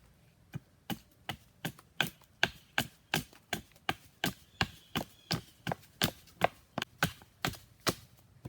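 A sharp hand tool slices into wood while a bow is carved, about two dozen crisp close cuts in a steady, slightly uneven rhythm with quiet between strokes.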